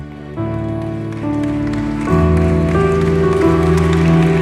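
A church congregation applauds in a dense, rain-like wash of clapping that swells and holds loudly over sustained musical tones.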